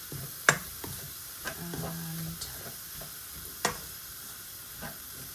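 Spiced lamb mince is stirred in a frying pan: a steady close sizzle with intermittent scraping strokes and occasional sharp spoon knocks against the pan.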